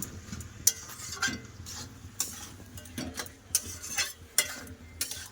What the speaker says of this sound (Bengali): সব ভালো করে মাছের মাথাটা কপির সাথে মিশিয়ে নেব।